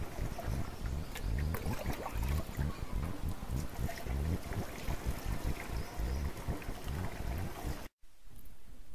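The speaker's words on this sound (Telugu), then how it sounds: "స్వేర్లో పోసుకోవాలి." Diluted herbal extract mixed with water is poured into a sprayer in a continuous close splashing gush that cuts off abruptly near the end.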